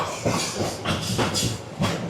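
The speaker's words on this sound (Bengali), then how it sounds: "সাত নম্বর প্ল্যাটফর্মে ট্রেনের স্পিড মোটামুটি অনেক বেশি" A Kalni Express train runs fast along platform seven on the Dhaka to Sylhet line, with a loud rushing rumble, rhythmic clatter of wheels over rail joints and bursts of hiss rising and falling.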